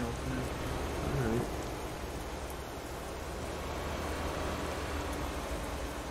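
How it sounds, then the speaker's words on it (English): Rain spray thrown up by truck wheels in Euro Truck Simulator 2 makes a steady, close broadband hiss that runs the whole time, with voices talking over it. "that's the rain from the wheel."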